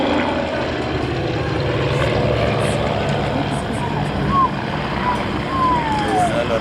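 Several Team Raven light aircraft fly past in formation, their propeller drone steady and moderately loud throughout, a faint voice talking over it.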